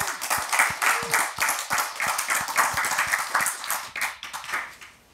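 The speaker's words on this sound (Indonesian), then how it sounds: "Tepuk tangan buat Kiai Haji Marzuki Mustamar." Audience applause for Kiai Haji Marzuki Mustamar, steady rhythmic clapping from a close group lasting throughout, with a faint voice briefly underneath.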